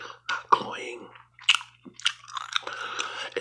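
Wet, close gum chewing in soft bursts with pauses between them, crisp smacks and clicks near the mic, and faint whispering in the background, in an ASMR style.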